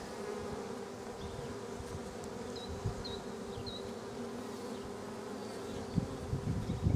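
Honeybees buzzing steadily around an open hive during a frame inspection, a dense continuous drone close by with occasional louder passes near the end.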